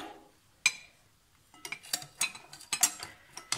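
A metal spoon clinks against a bowl or pan while vegetable oil is added to melted chocolate and butter for brownies, a single sharp clink followed by a quick run of close, bright taps.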